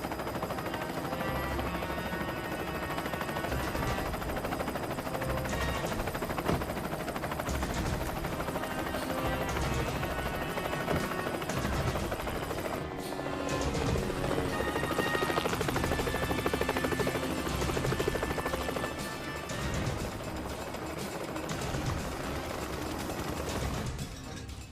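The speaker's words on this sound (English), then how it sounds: "There's an ATF helicopter right above us." Helicopter hovering overhead in a 1999 action film shoot-out scene, a loud, steady rotor chop that continues throughout with a slight swell toward the middle, accompanied by other film sounds and no clear talk.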